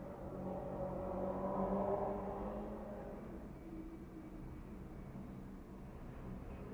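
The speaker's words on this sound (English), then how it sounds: "There was a freaking loud car in the street" A loud car passes on the street outside, its low engine rumble swelling to a peak and then easing off into a steady, muffled drone with no voices.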